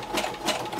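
Close, fast whir of a sewing machine running a short burst of stitching around a paper index card window pocket, steady and alone.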